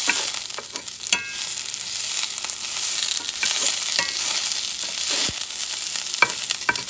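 Peppers sauté in a hot pan, giving a steady bright sizzle with scattered sharp clicks and scrapes of stirring, close and fairly loud throughout without any talk.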